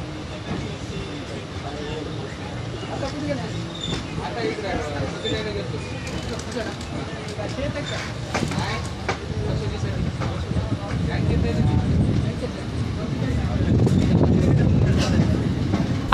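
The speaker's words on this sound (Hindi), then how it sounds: "अभी हमारी ट्रेन पूर्णा जंक्शन से निकल चुकी थी।" An Indian train rolls on after leaving Purna junction on the Purna-Nanded line, its steady rumble and faint rail clatter growing louder toward the end, with people talking faintly over it.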